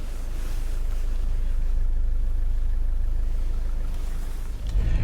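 A Skoda Superb drives along with a low, steady engine drone and road rumble heard from inside the cabin, fairly loud and even for a few seconds, ending in a brief bump.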